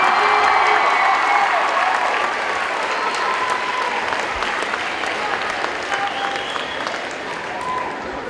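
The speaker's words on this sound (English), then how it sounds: "How about one more round of applause for our freshman attendance this year?" A high school homecoming pep rally crowd gives dense, sustained applause that fills the gym. Faint cheers mix into the steady roar of clapping, which eases slightly toward the end.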